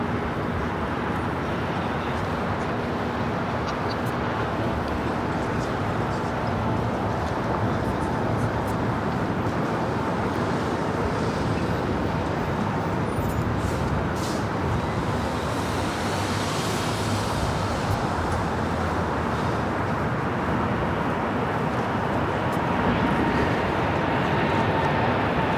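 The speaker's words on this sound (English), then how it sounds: "Those are the sounds of the United Dreamliner spooling up and now rolling." A United Boeing Dreamliner spools up its engines and rolls for takeoff at LAX, a steady broad roar that swells slightly toward the end and holds without a break.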